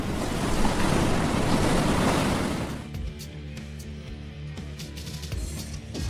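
Ocean surf around a lone surfer up on his board: loud, broadband wave wash for the first few seconds, then fading into quieter water movement with faint wind.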